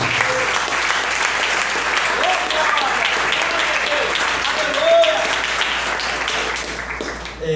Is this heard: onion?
no